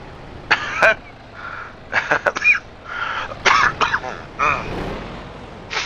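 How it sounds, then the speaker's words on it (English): Several short, sharp coughs and throat-clearing bursts come in quick clusters, close to the mic, with brief pauses between them. "I do have that little bit of cough."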